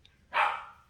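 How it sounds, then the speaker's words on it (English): A single loud dog bark, close by and sharp, standing alone against a quiet indoor background, with a faint short yip just before it. "My dog wants to come in."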